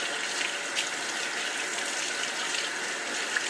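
Water runs steadily from a kitchen tap during handwashing, a close, continuous gushing hiss with no talk over it.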